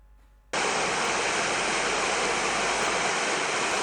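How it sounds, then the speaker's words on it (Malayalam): Heavy rain pours down at Sannidhanam, Sabarimala, bursting in abruptly as a loud, dense, unbroken hiss that stays constant to the end. "കനത്ത മഴയാണ് സന്നിധാനത്ത് പെയ്തുകൊണ്ടിരിക്കുന്നത്"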